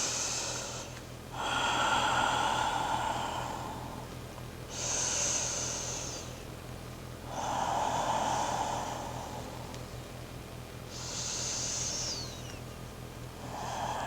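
Deep, audible breaths during a held yoga pose, in slow cycles of long inhales and exhales, each a breathy rush lasting a couple of seconds with quiet gaps between, close and steady under low background hum.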